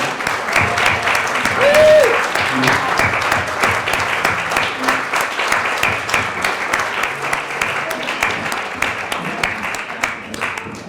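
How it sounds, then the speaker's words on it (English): Dinner guests at a Lions Club charter dinner give a sustained round of applause for community contributors, steady dense clapping filling the room for the whole stretch with a brief voice near the start. "Would you all stand and have a round of applause for your contribution?"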